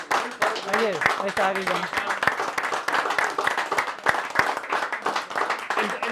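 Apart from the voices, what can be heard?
bar audience applause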